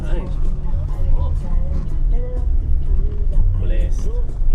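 Chevrolet Suburban rental car cruising in Hawaii, a steady low engine and road rumble running throughout, with people chatting inside the cabin over it.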